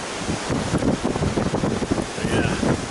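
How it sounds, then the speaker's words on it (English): Wind roars against the microphone over waves breaking on a breakwater on the Oregon coast, a steady loud rushing wash with gusty surges throughout. "the wind hitting the waves behind me were clearing this breakwater"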